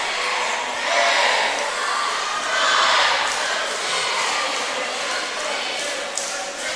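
Crowd of spectators in a gym at a men's college basketball game, a steady broad murmur with gentle swells, moderately loud and continuous with no clear single voice.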